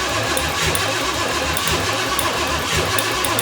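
A two-door Chevrolet Tahoe engine cranks with a rough, pulsing, fairly loud mechanical churn, repeating at an uneven rhythm for a few seconds, with no talking.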